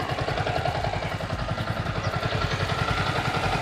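A warmed-up Yamaha Vixion motorcycle engine idles steadily at close range after a water pump seal replacement, its low rhythmic putter continuous throughout with a faint mechanical clatter on top.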